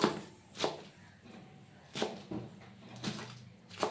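A knife chops through fresh fenugreek greens on a board in a home kitchen, giving about seven sharp, separate cuts at an uneven pace, close by and fairly quiet, with no talking.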